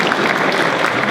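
An audience at a photography conference talk claps in a dense, steady burst of applause, close and continuous across the short stretch.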